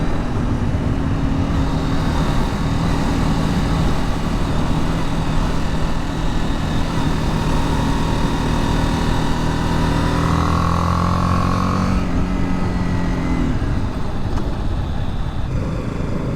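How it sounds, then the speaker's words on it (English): A BMW G310R, a 300-class motorcycle, being ridden, with a loud, steady single-cylinder engine drone heard close up. The pitch climbs through the gears and then drops off near the end as the rider shifts and eases off. "Sweet little motorcycle."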